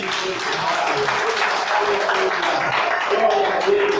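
A church congregation applauds together in steady, dense clapping that fills the room at an even loudness throughout, with no speech over it.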